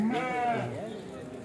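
Sheep bleating at the Kadiri livestock market, a single close, loud wavering bleat lasting about a second, with market chatter faintly behind it.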